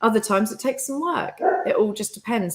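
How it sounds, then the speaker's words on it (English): A dog barks and yips repeatedly in the room, the sounds running through and under a person speaking nearby. "I do apologize for my dog."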